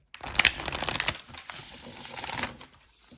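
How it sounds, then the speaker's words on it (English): Cards being shuffled close by: a rapid papery riffling and flutter, then a smoother sustained riffle that tapers off. "Okay, we're going to shuffle these. Heads up, shuffling."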